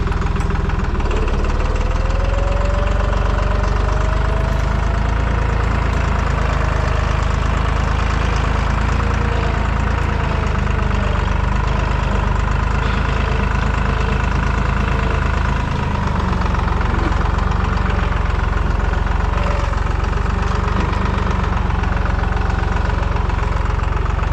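A heavy diesel tractor engine runs continuously nearby during an olive harvest, a loud, low, rumbling idle with a steady knocking throb that persists unchanged.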